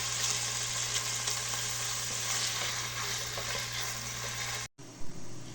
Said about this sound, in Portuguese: Enquanto a linguiça está fritando ali um pouco